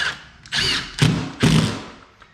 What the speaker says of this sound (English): re-secure everything back to the studs using screws